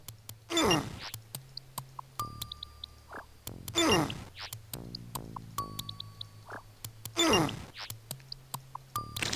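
An eerie creature sound from the video game Lands of Lore repeats three times, a sweeping rasping swell each few seconds, among sharp clicks, tones and dings, no talking.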